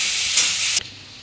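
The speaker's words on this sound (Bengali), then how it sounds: "কিছু সময় নাড়িয়ে চাড়িয়ে এবার পেঁয়াজটা একটু ভাজা ভাজা হয়ে গেছে" Onions frying in a pan while being stirred, giving a steady, close, bright sizzling hiss that cuts off abruptly partway through, leaving faint quiet.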